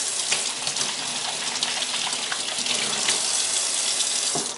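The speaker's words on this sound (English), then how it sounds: "now when I go to the sink, quickly wash my hands" Water from a kitchen sink tap runs in a steady, loud gush while hands are rinsed with soap, continuous and close with faint splashing changes and no voices.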